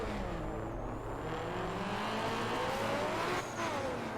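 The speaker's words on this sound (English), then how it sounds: "hold the A button on the Xbox controller, which is clutch, rev out your car," A car engine revs hard at the start line of the Night Runners racing game, a sustained rising roar with a faint tire squeal mixed in.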